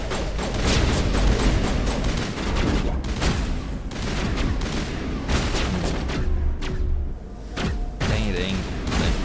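Heavy gunfire in Mass Effect, repeated bursts and sharp shots with booming impacts over about nine seconds, some brief pauses between volleys, and a voice talking in places.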